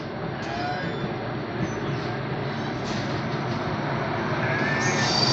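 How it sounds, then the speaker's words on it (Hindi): The Mussoorie Express, hauled by WAP7 locomotive 30231, pulls out of Najibabad with a steady rolling rumble of wheels on rails that grows slightly louder as it gathers speed, with faint squeals on top. "ट्रेन यहाँ से चल चुकी है"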